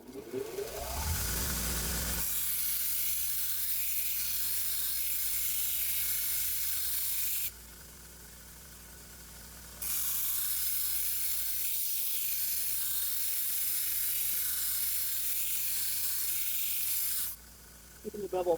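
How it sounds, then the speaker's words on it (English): An 80 grit belt grinder grinds the bevel on the blade of a three-bladed veggie chopper under restoration, giving a loud, steady abrasive hiss that drops out briefly twice as the blade is lifted off. "Now we're going to actually grind the bevel. And we're back to an 80 grit belt."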